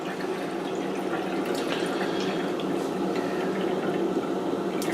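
Cold brew coffee poured into a single large paper filter sheet set in a kitchen sink, a steady close splashing and trickling of liquid that runs without pause.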